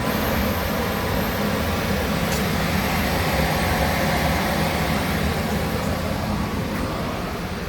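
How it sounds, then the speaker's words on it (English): The blower fan of an air pit gives a loud, steady broadband roar with a whooshing airflow character, unbroken and without any talking. "Please only turn on the blower to level 1."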